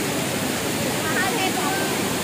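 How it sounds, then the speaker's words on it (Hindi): A steady, broadband roar of rushing water fills the clip, constant and loud like a nearby waterfall, with faint voices mixed in, at Tirathgarh waterfall in Bastar during the monsoon. "पानी का ज़्यादा आवाज़ आ रहा होगा जोर से"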